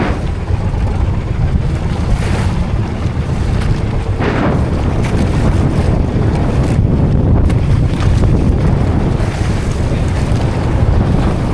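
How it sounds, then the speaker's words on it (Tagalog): Big sea waves rush and crash around a boat while wind buffets the microphone, loud and continuous with occasional heavier surges. "Gabundok ang alon."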